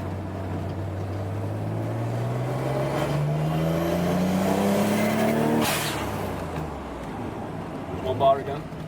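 A turbocharged GTO car engine pulls hard under boost, its note rising steadily in pitch for several seconds before easing off, loud and close, followed by a short burst of higher-pitched whine near the end.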